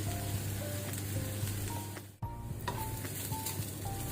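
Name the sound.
onions with curry leaves frying in oil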